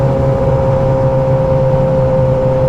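A 2007 Yamaha R6 with a Power Commander 5 and full exhaust holding a loud, steady, droning engine note, raspy and continuous throughout, close and unbroken.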